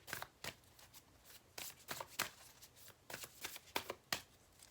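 Tarot cards are shuffled and drawn, a run of crisp, close riffling flicks and snaps coming in uneven bursts, with no talking.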